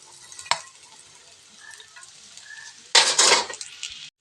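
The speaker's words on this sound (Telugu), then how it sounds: "మసాలాలన్నీ రైస్కి పట్టేలా కలుపుకోవాలి" Egg rice and garam masala being stirred in a pan: quiet faint sizzling with a single clink early on, then a loud scraping burst of spoon against pan near the end, close by and with no talking.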